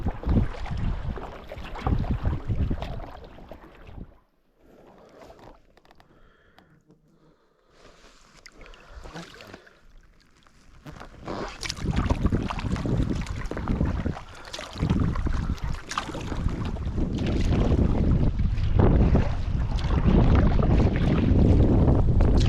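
Canoe paddling on a sub-arctic river in Labrador with Aquabound bent-shaft and straight-shaft paddles against a light headwind, strokes splashing and dipping close by amid steady wind buffeting the microphone, with a quieter stretch partway through.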